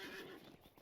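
A horse whinnies in the Lord of the Rings Online video game, one clear neigh that tails off over under a second, with faint hoof clops behind it.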